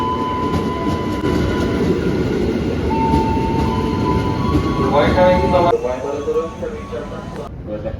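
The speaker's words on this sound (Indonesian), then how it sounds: "Nah, ini kereta datang dan selain naik KRL nanti aku juga bakal naik bis" KRL commuter train arriving at a station in Jakarta, a loud rumbling roll with rail clatter and a squealing brake tone before it slows, while a person talks over it.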